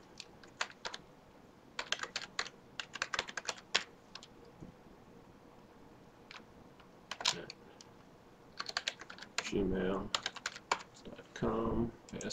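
Typing on a computer keyboard, bursts of quick clicking keystrokes with pauses between them, close and fairly quiet.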